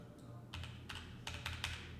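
Several keys pressed on a computer keyboard while trying Tinkercad shortcuts, giving a handful of faint, irregular plastic clicks over a low background hum.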